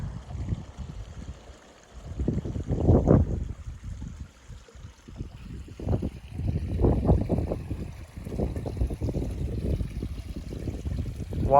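Water flowing in a desert stream, a steady close rushing and trickling that swells and eases in waves, with no voices.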